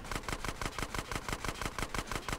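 Rapid automatic gunfire in GTA San Andreas during a chase against riders on bikes near a bridge, fired as a loud, steady stream of evenly spaced bursts with no talking.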